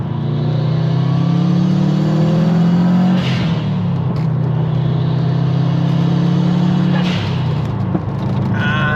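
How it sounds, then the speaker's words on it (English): A Subaru WRX engine revs from close by, a loud, throaty drone that holds steady, drops briefly, then climbs again in a second long rev, with short gaps between pulls. "I just love the way this car sounds"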